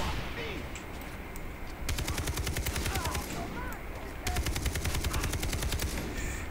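Rapid automatic gunfire in the video game Far Cry 3, two sustained bursts of fast, even shots over a dense layer of battle noise, loud and close.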